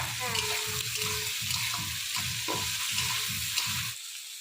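Shredded cabbage frying in a pan with dried red chillies, a steady sizzle with rhythmic scraping stir strokes, fairly loud and close, cutting off near the end; no one talks.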